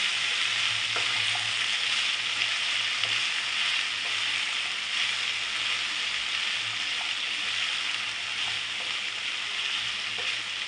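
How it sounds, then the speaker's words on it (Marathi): Turmeric sizzles and fries steadily in a hot pan as it is sautéed for a bell pepper and chili dish, a continuous hissing crackle with faint stirring scrapes. "हळद व्यवस्थित परतून घ्यायचं"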